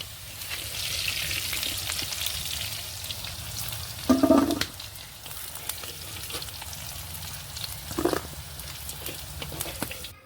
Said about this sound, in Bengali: এই যে ভালোভাবে ভেজেও নিয়েছি কচুটা এবারে কচুটা আমি তুলে নেবো